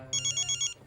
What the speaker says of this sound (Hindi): ये वाला फोन बज रहा है